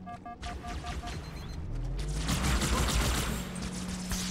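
Gunfire and battle noise in Halo 2 build into a dense, fairly quiet barrage of rapid bursts and booms after a few electronic beeps, with little else on top.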